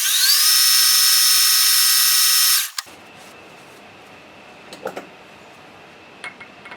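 A metal lathe turns a part for a Hemingway kit spherical ball turner, taking a few thousandths off the diameter. A loud, steady high whine runs for under three seconds, then cuts off, leaving faint workshop clinks.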